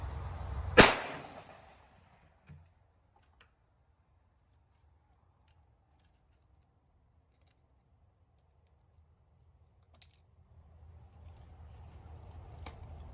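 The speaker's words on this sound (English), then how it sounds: "I'll put my earmuffs on, and we will fire a round." A single sharp AK rifle round fired from a fixed test rig, one loud close crack followed by fading echo, then quiet before faint rustling and handling noise builds near the end.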